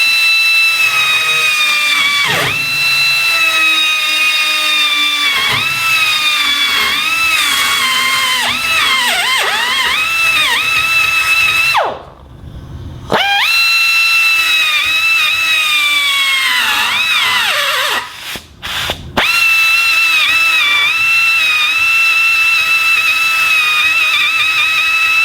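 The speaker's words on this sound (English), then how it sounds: "we just got a die grinder here with a carbide burr in it, and we're just gonna kind of clean these up here" A die grinder fitted with a carbide burr cleans up metal parts for a metal bender, producing a loud, continuous high-pitched whine with shifting tones as it bites the workpiece, briefly dropping off twice before resuming.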